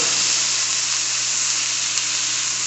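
Spicy chicken breast sizzles in a pan, a steady close hiss of frying with no break and no voices.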